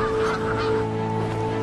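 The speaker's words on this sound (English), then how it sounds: "That's a pretty spectacular flock of ducks over there, Richard." A large flock of waterfowl calls continuously from an inland wetland, a dense, steady chorus of honking cries, loud and close, with no talk over it.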